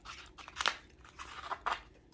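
Excess vinyl cut with scissors in a couple of quiet, close snips and crunchy cuts against a faint background.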